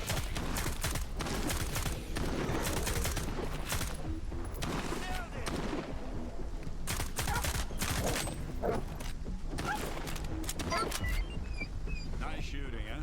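Dense, continuous exchange of gunfire in Stalker 2, irregular shots and bursts overlapping with no letup, fairly close and mixed with other game noise.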